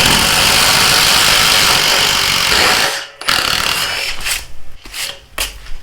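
Milwaukee M18 Fuel Gen 3 impact driver at speed 3, a loud steady whirring hammer run for about three seconds that cuts off abruptly, followed by a few shorter bursts and clicks.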